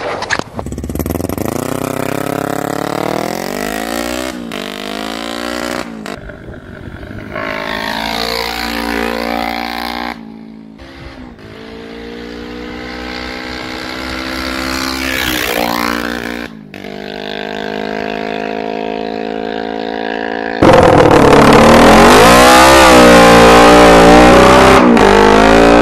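A carbureted dirt bike runs rich on a ride, its engine revving up and down in repeated loud pulls and shifts, closing with a louder full-throttle stretch.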